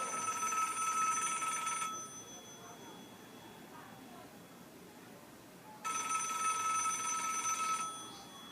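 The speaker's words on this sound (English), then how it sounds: "Ringing the police department." An old telephone bell rings in two long bursts about two seconds each, separated by a quiet gap, loud and close against a faint background hum.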